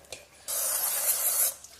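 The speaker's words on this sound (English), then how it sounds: "I'm going to spray both sides of my dough with an olive oil spray" Olive oil spray hisses onto pizza dough in one steady burst of about a second, close and fairly loud, framed by faint handling noises before and after.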